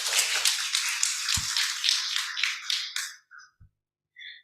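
Applause from a symposium audience, a dense patter of many hands clapping for about three seconds before thinning out into a few scattered claps and quiet gaps.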